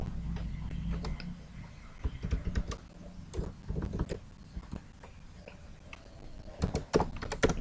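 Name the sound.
typing on computer keyboard in MS Word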